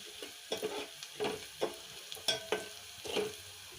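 Onions fry with half a teaspoon of salt in a pan, a quiet sizzle under a series of distinct spoon scrapes and taps against the pan at an uneven rhythm, close and fairly soft, no talking.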